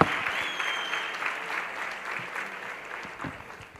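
An audience at a youth empowerment event in Vaal claps steadily, a continuous even patter of many hands with no voices standing out, holding at a fairly constant level throughout.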